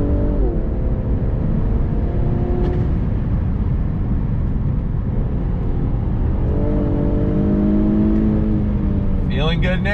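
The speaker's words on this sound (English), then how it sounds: "manual shift mode, second gear, on throttle, here we go" A 2021 Infiniti Q60 Red Sport 400 coupe in Sport Plus and manual shift mode, pulling hard in second gear from inside the cabin: loud sustained engine drone with rising tones and quick shifts, over dense road noise, with people talking.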